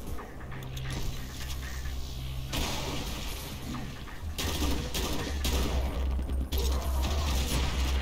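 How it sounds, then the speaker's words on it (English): Grenade explosions and gunfire in the video game Doom with the Project Brutality mod, a dense run of booming blasts and sharp bangs that carries on loudly without a break. "I'm going to grenade them."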